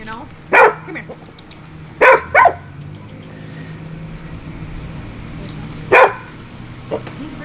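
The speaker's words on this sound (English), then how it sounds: "He's a very strong dog." A big, strong dog barks in sharp single and double woofs, four or five in all spaced several seconds apart, fairly close, over a low background hum outdoors.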